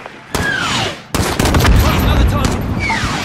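Heavy gunfire in the Call of Duty Modern Warfare campaign: a loud blast opens a dense, continuous burst of rapid shots and rumbling booms, with a whistling streak above the noise.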